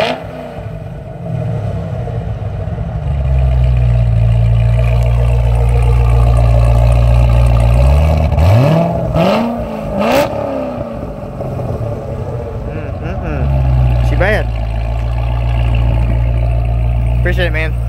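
A ZR1 car engine rumbles loudly at close range, climbing through a couple of revs that rise and fall before settling back toward a deep idle, with speech heard over it.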